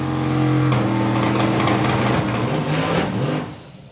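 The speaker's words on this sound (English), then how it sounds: "So, turbos, you're going to hear the revs come up." A turbocharged drag racing car at the FIA Euro Finals revs hard on the start line, its loud, steady engine note holding and climbing as boost builds before dropping away at the end.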